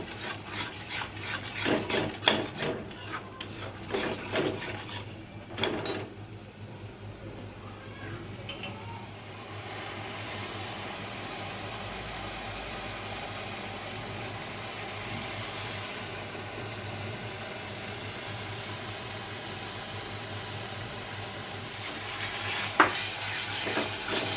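Spices and sugar being sautéed in oil, with scraping stirring strokes at first and then a steady close sizzle that carries on for many seconds, a voice talking early on.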